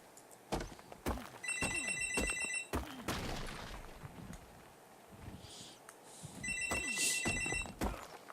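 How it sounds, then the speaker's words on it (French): A telephone rings about three metres away, quiet and somewhat distant, with two clear bursts of bright trilling bells separated by a gap, among soft thumps and room noise. "Donc ça c'est le téléphone, ne vous inquiétez pas"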